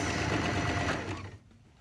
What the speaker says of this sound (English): just stitching along the stitch line that was already there where the stitches came out